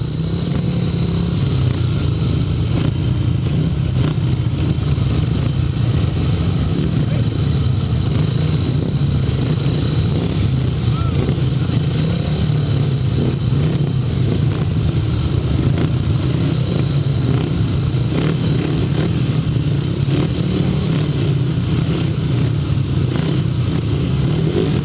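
Solo grasstrack racing motorcycles at the 2008 British Best Pairs meeting, a continuous loud roar of engines passing and revving throughout with steady crowd-like background noise.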